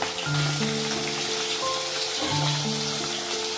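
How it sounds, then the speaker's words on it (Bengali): Pabda fish fry in hot oil with a constant crackling sizzle, heard close and moderately loud beneath sustained background music tones. "পাবদা মাছ ভাজার সময় কিন্তু মাছের তেলের মধ্যে মাছটা দিলে টুপটাপ করে ফাটে"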